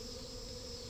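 Honeybees buzz around a hive in a steady, continuous outdoor drone, a dense hum of many insects close by with no talk.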